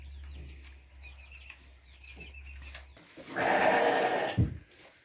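Icelandic sheep on a homestead let out a loud, drawn-out bleat near the end, after a quiet stretch with faint bird chirps and a low hum.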